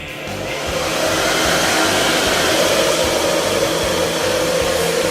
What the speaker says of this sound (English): heating the whole thing up with a hairdryer works really well